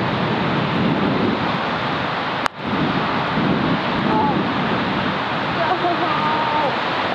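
Steady wind roars across an outdoor golf course, loud and continuous with a broadband rush, broken briefly by one sharp thump near the middle.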